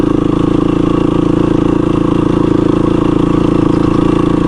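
A dual sport motorcycle engine drones steadily while riding, a close, loud, even mechanical hum with constant rhythmic pulsing and no speech.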